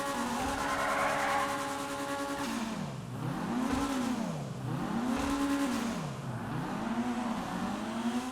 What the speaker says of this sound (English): I like the sound of this car. The sound of this car is really nice.